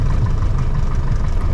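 A small airplane engine idles steadily and loudly during taxi on a student pilot's first solo flight, a continuous low rumbling drone with no voices over it.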